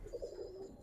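A Giribaz pigeon, a large high-flyer, giving a short low coo, close and soft, cut off by a sudden thump at the end.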